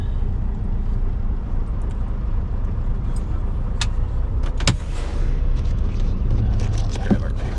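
A truck pulls slowly onto an axle weigh scale. A steady, loud low engine rumble persists throughout, with a few faint clicks and clanks in the cab.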